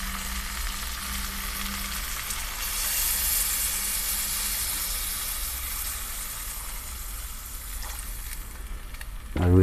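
Mutton and potato curry in a pan over a gas flame, hissing and sizzling loudly and steadily right after water is added, with a continuous close frying sizzle throughout.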